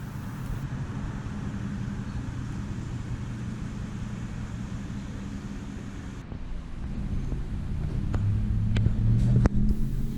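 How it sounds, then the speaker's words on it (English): A 1999 Ford Mustang GT pulls out of a garage, its engine a steady low rumble that swells slightly as it moves off, with broadband road and air noise throughout and no talking. "here the mechanic is taking the Mustang out of the garage to take it for a test drive"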